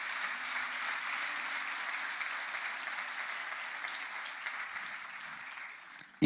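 A church congregation applauds, a sustained wash of many hands clapping at moderate volume across the room, gradually thinning toward the end before a sharp knock.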